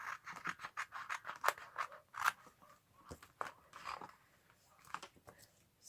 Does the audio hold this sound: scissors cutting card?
yes